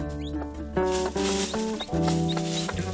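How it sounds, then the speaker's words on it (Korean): A mother hen scratches at an old pile of chicken droppings and gives a string of quick, close food-call clucks to her newborn chicks. Soft music plays steadily in the background. "이곳에 먹을 것이 있다는 소리를 내며 병아리들에게 교육을 하고 있다"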